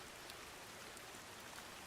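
Rain falls steadily in a video game scene, a soft even hiss of drops across the whole stretch, faint and constant with no voices.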